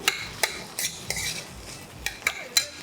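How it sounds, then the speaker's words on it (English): Chopped potatoes are mixed in a pot with masala, giving a handful of sharp metallic clinks and scrapes of a spoon against the pot, close and moderately loud, with no talking. "We add the chopped potatoes. We'll mix everything very nicely."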